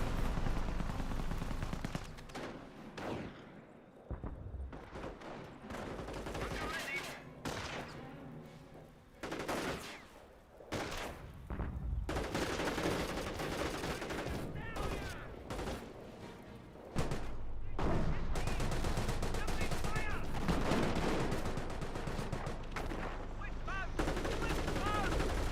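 Gunfire crackles through a Company of Heroes battle, dense bursts of rifle and machine-gun shots with heavier booms mixed in, loud and continuous.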